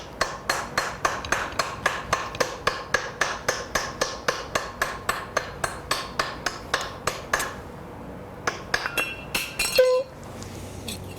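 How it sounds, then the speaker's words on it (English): A large hammer strikes a metal shell during shell forming, with a fast, even series of sharp ringing blows, roughly twenty-five in a row, followed by a few scattered taps. "I'm going to use the bigger hammer."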